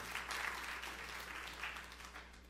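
A church congregation applauds during a sermon, a soft, distant wash of clapping that stays steady and gently fades over a few seconds.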